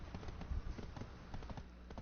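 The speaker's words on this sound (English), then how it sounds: "I meant to catch my horse before it ran in there" Faint, quick hoofbeats from a horse running in the online video game Black Desert Online form a soft, rapid clip-clop under a low background.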